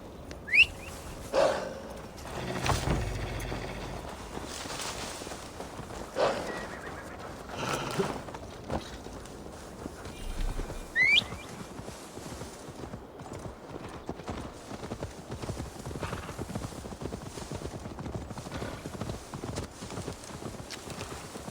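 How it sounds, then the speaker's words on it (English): A horse's hooves clip-clop steadily through a long stretch of gameplay in Assassin's Creed Valhalla, a continuous rhythmic gallop at moderate loudness with occasional bird calls in the background. "Now to deliver Magni his horse."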